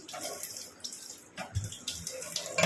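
Water splashes from a running tap while an onion basket is washed under it. The splashing comes in uneven bursts that rise and fall with handling, close by, with no talking.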